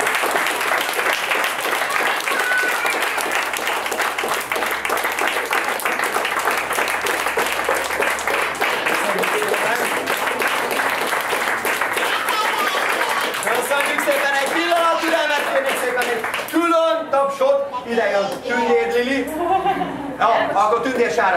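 Steady, loud applause from a live audience at a market storytelling performance carries on for many seconds, then thins out as a voice begins speaking over the last scattered claps and cheers.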